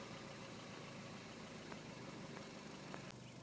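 A Toyota MR2 Spyder's small four-cylinder engine runs at a steady, faint idle: a low, even hum with a few soft clicks, and no voices.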